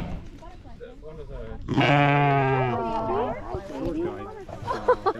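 A sheep kept for mowing on a Kona coffee plantation in Hawaii lets out one loud, wavering bleat close by, with people talking softly before and after it.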